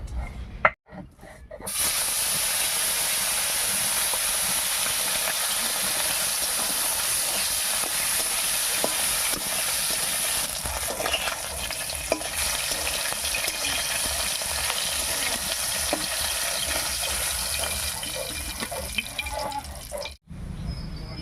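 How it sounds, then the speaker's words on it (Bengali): Singi fish lightly frying in hot oil give a steady, close sizzling hiss with scattered pops and crackles that runs for around twenty seconds, then cuts off abruptly. "তেল গরম হয়ে গেছে মাছটা একেবারে হালকা করে ভেজে নেবো"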